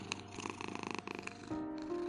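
A white female cat purring up close, a steady rhythmic rumble with pulsing breaths, loud and clear with no voices over it.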